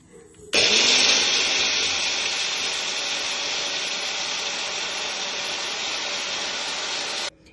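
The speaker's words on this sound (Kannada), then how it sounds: "ಸೊ ಇದನ್ನ ಗ್ರೈಂಡ್ ಮಾಡ್ಕೊಳ್ಳೋಣ" A mixer grinder runs steadily for about seven seconds, coarsely grinding a curry leaf masala with pepper powder in a home kitchen; a loud, even whirring motor starts abruptly and cuts off cleanly, with no talking.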